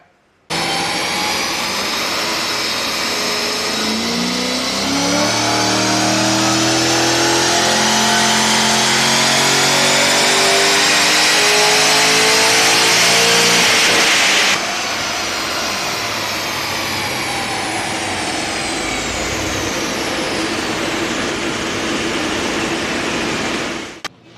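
A 6-litre turbocharged engine revs hard through a rear-wheel dyno pull, its loud roar climbing steadily for about fourteen seconds before the throttle closes and the engine settles into a steady, lower drone.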